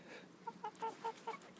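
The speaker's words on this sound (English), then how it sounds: "That's the only rooster I have now," A rooster gives a short run of soft, faint clucks, about five quick notes in a row, heard alone at a distance.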